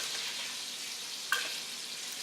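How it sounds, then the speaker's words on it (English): A steak fries steadily in hot oil with a constant broad sizzle, with a brief spatter as oil is spooned back over the meat. "you take that hot oil, and you pour it back over the steak"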